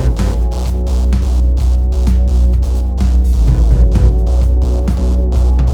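A steady music loop processed with the Audiothing Things Tilt tilting EQ plugin, with a pulsing low end and bright, crisp highs, plays continuously at full level, no voices present.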